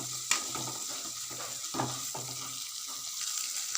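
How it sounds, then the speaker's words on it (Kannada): Onion, green chilli and curry leaves fry in a pan with a soft, steady sizzle. Stirring scrapes and light knocks of a spoon against the pan recur through it, and no one speaks. "ಈರುಳ್ಳಿ, ಕಾಯಿ ಮೆಣಸು ಮತ್ತು ಬೇವಿನ ಹಾಕಿ ಹುರಿಬೇಕು."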